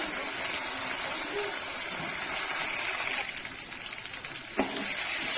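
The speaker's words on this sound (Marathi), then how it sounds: "कांदा टाकून घेत आहे लांब लांब कापलेला" Long-sliced onion fries in hot oil in a pan for a veg frankie, giving a soft, steady sizzle with one small clink near the end.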